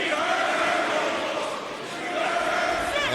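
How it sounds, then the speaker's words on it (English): At an AEW Dynasty wrestling event, the arena audience cheers in a continuous roar of massed voices that dips in the middle and then builds again, with a commentator's voice mixed in. "you hear that audience?"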